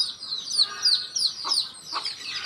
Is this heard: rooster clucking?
yes